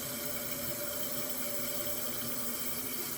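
A toilet fill valve with an adjustable green valve refills the tank after a leak repair, giving a steady, even hiss of rushing water close by with no pauses and no talking.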